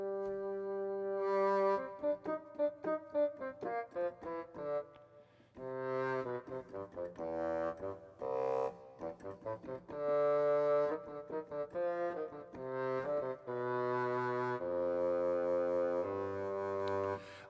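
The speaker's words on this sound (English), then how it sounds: "So let's look at bassoon." Sampled bassoon on a legato vibrato patch from a Cinesamples library, playing a connected melodic line of many short and sustained notes, fairly quiet and alone without any voices.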